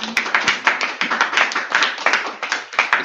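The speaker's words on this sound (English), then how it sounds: "give yourselves a round of applause" Audience at a mental health conference clapping, a brisk even round of applause from a modest crowd, close and steady for a few seconds without talk.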